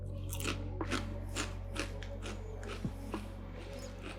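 Crisp crunching and biting on a potato chip with a cumin-heavy, taco-like seasoning, a run of short close-up crunches spread across a few seconds over a steady low background hum.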